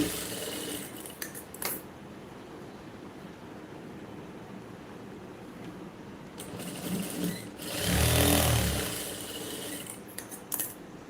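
A domestic sewing machine stitches fabric in steady low whirring runs, with a louder, heavier burst of stitching near the end and small clicks between passes; no one speaks.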